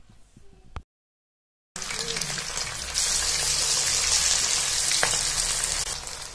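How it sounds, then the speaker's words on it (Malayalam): Marinated chicken fries in hot oil. After a brief quiet stretch and a gap of silence, a loud, continuous sizzle starts up and grows stronger, with occasional crackles, and no one speaks. "അങ്ങനെ നമ്മുടെ ചിക്കൻ ഇവിടെ അരമണിക്കൂറിന് ശേഷം നമ്മൾ ഫ്രൈ ചെയ്തെടുക്കുകയാണ്."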